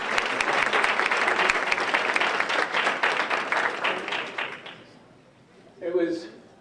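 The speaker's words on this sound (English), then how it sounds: "So another round of applause." Banquet audience applause at an Armenian Studies dinner, dense sustained clapping that fades out after about five seconds, followed by a brief burst of speech.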